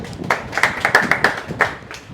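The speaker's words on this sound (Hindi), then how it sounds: "तालियां इनके लिए।" A small group claps briefly for a mobile repairing course student, a handful of sharp, close hand claps in an uneven rhythm that quickly thins out, with no talking over it.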